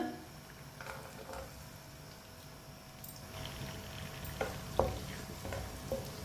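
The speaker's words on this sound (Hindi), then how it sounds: "लहसुन और टमाटर को 2 मिनट के लिए पका लेंगे।" Finely chopped garlic and tomatoes cook in about five spoons of oil in a pan, giving a soft continuous sizzle with a few faint stirring clinks toward the end, quiet and close.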